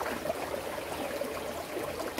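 Steady river water flowing and trickling nearby, a continuous even wash with no distinct splashes.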